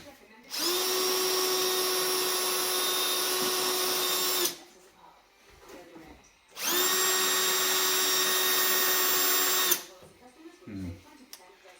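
A power drill bores starter holes with a normal bit into a VW Beetle body panel, two loud steady whining runs of about four seconds each separated by a quiet pause, with faint handling noises between.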